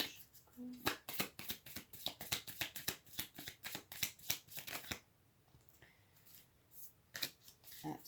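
Oracle cards being shuffled, a fast run of crisp riffling flicks for about five seconds, close and fairly quiet, then a pause and a few more card snaps.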